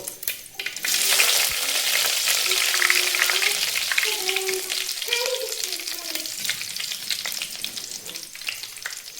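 Mustard seeds, cumin and curry leaves sizzle and crackle steadily in hot oil, a loud close frying hiss with scattered pops and some stirring, no talking.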